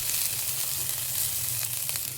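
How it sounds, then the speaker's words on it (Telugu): Thinly sliced onion frying in oil for chilli chicken, a loud, dense, continuous sizzle with faint occasional stirring scrapes. "దీంట్లోకి ఒక చిన్న ఉల్లిపాయ వేసుకుంటున్నాను, సన్నగా చీల్చుకున్నది. ఇది కూడా కాస్త ఫ్రై అవ్వాలి."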